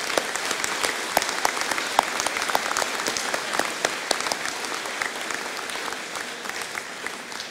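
Sustained audience applause at a college convocation ceremony, dense steady clapping from a large crowd throughout, fairly loud and even with no talk over it.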